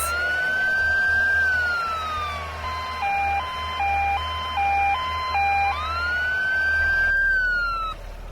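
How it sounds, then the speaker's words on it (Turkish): A loud electronic ambulance siren in a children's car game wails up and down, switches to a rapid two-tone yelp in the middle, then returns to the slow wail. "Hastaneye gitmek için ambulansa bir yol seç."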